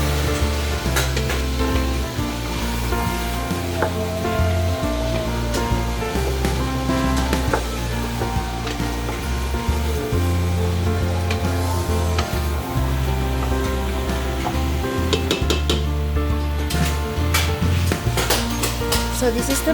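Celery and other chopped vegetables frying in a soup pot, a loud continuous sizzle with occasional stirring scrapes and clicks throughout, no talking.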